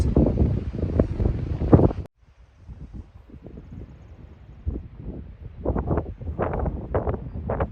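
Strong wind gusts across an exposed, cloud-covered mountaintop at Buzzard Rock and buffets the microphone. A loud roaring blast drops abruptly to a lower rumble, then gusts build again in uneven surges.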